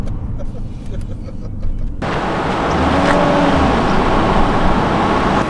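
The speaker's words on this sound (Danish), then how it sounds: "det kommer biler bak oss." Cars drive along a Norwegian road, first as a quieter hum and then, after a sudden jump, as a loud, close, continuous roar of traffic passing behind the people.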